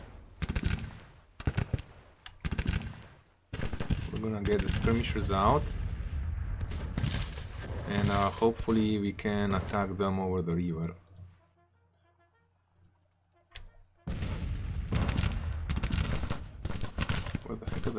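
Musket and cannon fire from Civil War armies in the Grand Tactician strategy game, sharp bursts of gunfire crackling in clusters at the start and end, with someone talking over the middle stretch.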